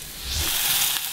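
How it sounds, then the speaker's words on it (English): Steady sizzling of breakfast frying in a pan, a bright crackling hiss close up with no talking. "Pans. Cooking breakfast."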